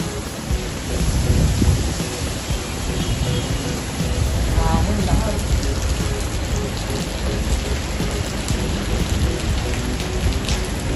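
Heavy rain and strong wind lash down during a super typhoon in the Philippines, a dense, steady roar of downpour with gusting surges and low rumbles throughout.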